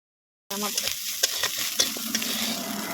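After a brief silence, a loud, steady sizzle of snails frying in a pan begins, with occasional sharp pops and crackles up close.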